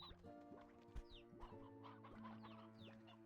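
Chickens cluck in the game Slime Rancher 2, a busy overlapping chorus of short clucks and squawks over a steady tonal music bed, close and continuous throughout.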